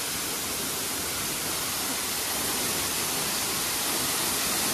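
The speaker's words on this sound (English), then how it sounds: "This is the waterfall, guys." Rushing water at the Sampuran Efrata waterfall in Sumatra, a loud, steady, broadband roar that stays constant throughout, close by and unbroken.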